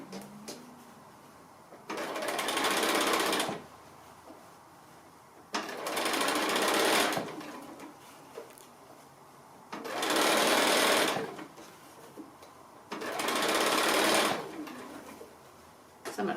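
Sewing machine stitching a roly poly cylinder pin cushion, four loud whirring bursts of rapid stitching lasting about two seconds each, separated by quieter pauses while the fabric is turned.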